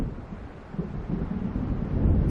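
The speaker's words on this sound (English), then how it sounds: "It seems there's a storm coming." Low rumbling thunder of a storm rolling in over the waves in Alan Wake Remastered, a steady deep roar that swells toward the end with wind-like noise and no voices.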